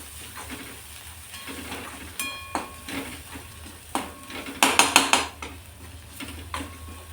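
Fresh crushed ginger and garlic sauté in a pan, with a soft sizzle under sharp clinks and scrapes of a metal spoon against the pan, the clatter bunching into a quick flurry near the end.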